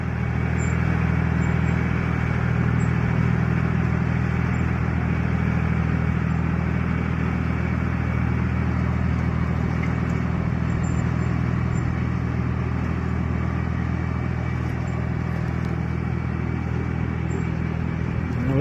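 A small 42-horsepower, three-cylinder, non-turbo bulldozer engine runs steadily and close by, a constant loud rumbling drone with faint clatter throughout and no talk.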